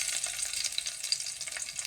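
Ingredients for a miswa and patola (sponge gourd) soup sauté in a hot pan, giving a steady bright sizzle with faint stirring throughout a short stretch, no talking.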